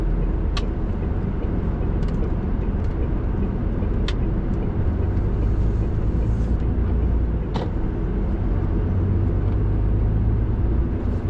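A lorry pulling a trailer drives through Ashton on the outskirts of Wigan on a delivery run to a biscuit factory. A steady loud engine and road rumble fills the cabin, with a few faint clicks and knocks.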